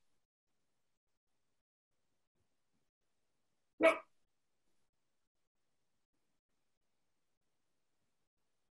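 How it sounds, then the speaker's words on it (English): A single short dog bark, somewhat distant, breaks an otherwise silent stretch. "Just waiting for a dog to stop barking."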